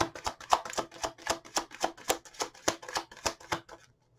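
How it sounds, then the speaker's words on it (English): Tarot cards are shuffled in a rapid run of crisp, close riffling slaps, about a dozen evenly spaced bursts that stop abruptly, with no talking. "Keep shuffling."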